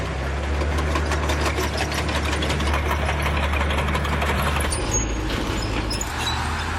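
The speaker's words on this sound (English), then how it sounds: "This German Stug 3 is equipped with a modern engine" A German StuG III assault gun's modern engine runs at a steady, rumbling idle with a low, continuous drone and faint mechanical knocking, close and unchanging throughout.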